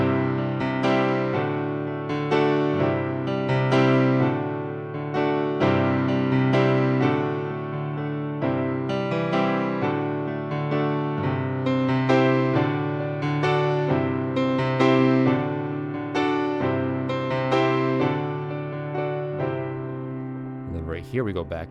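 Piano playing the final chorus of a cover song, steady repeated chords and a melody line in a continuous rhythmic pattern, played alone at a full, even level with no voices.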